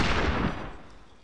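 Cannon fire in a US Civil War video game mod, a single booming blast that fades out over about a second.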